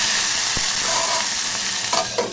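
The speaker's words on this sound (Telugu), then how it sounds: "తరువాత అదే గిన్నెలో టమాటా ముక్కలు కూడా వేయించుకొని" Tomato pieces fry in hot oil in a pan for peanut chutney, a loud, close, continuous sizzle with a couple of brief stirring knocks near the end, no voices.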